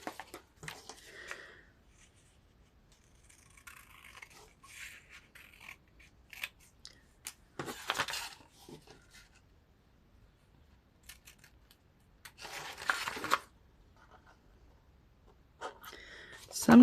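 Scissors snip paper along fold lines, close and quiet, in irregular bursts of crisp cutting and rustling, with louder cuts at intervals and someone talking between them.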